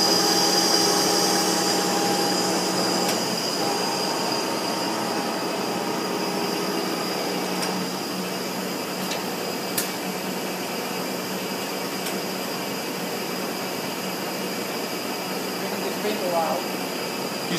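Steady mechanical whine and hum of a Toshiba-Shibaura BFT-13C horizontal boring mill rapid traversing up and down in a shop, a continuous drone with faint clicks, while someone talks over it.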